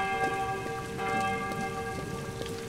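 Heavy rain pours down in the video game Doctor Who: The Eternity Clock, set in Elizabethan London, a dense steady hiss with scattered drops and ringing tonal layers over it, no talking.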